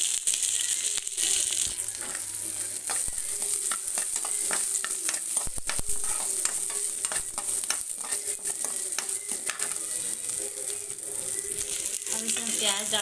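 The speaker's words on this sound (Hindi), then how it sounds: "अब इसमें हरी मिर्च डालेंगे हम।" Green chillies frying and being stirred in a pan over a low gas flame while making suji aloo balls, with a steady close sizzle and scraping and clattering stir strokes throughout.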